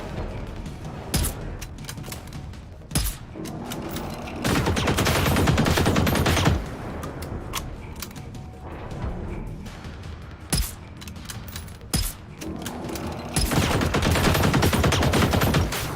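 An enemy in Generation Zero fires through a wall, loud automatic bursts that break out in repeated sharp volleys, with single heavy cracks spaced between them and a steady rumble of combat beneath.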